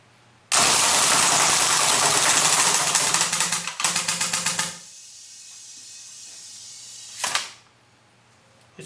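A WE Apache SD3 gas blowback airsoft SMG fires full auto in a long loud burst, then a quick run of rapid sputtering shots as the gas weakens in cold weather, followed by one short final burst.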